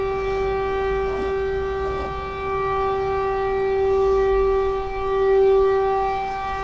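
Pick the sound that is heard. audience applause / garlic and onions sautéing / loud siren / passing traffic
loud siren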